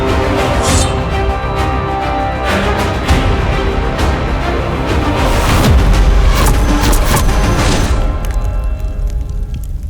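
A British brass-barrel flintlock blunderbuss from the mid-18th century firing, with a loud booming blast and cracking bursts that sustain a heavy, rumbling roar across the whole stretch.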